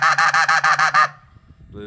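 RedBone B2 goose call blown in a murmur: a quick run of about seven loud, evenly spaced honking notes that stops abruptly, followed by near silence.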